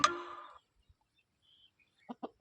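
A country hen gives a loud, close cackle, then falls quiet before three short, soft clucks in quick succession.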